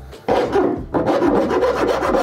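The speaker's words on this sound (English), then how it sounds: "the thing that worked really well for shaving down large amounts of plastic was just a rough file" A rough file rasps over a 3D printed plastic body panel from a widebody kit, in two bursts of dense, loud scraping strokes with a brief pause between them, close up and without talk.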